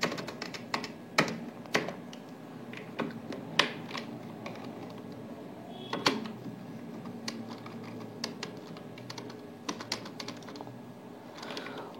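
Keys clatter on a computer keyboard as accounting figures such as a bank amount are entered, coming in uneven bursts of close, crisp clicks with brief pauses and no talking.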